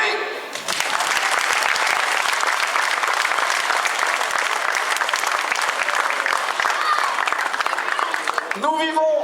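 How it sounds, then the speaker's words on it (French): An audience at a rally event applauds in a sustained, dense burst of clapping that runs steadily for several seconds before a voice cuts in at the end. "On les applaudit."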